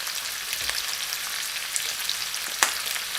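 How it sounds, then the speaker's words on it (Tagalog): Chicken and broccoli sizzle steadily in a hot pan during a stir fry with oyster sauce, a continuous close frying hiss with a brief sharper crackle near the end. "Little bit of stir fry."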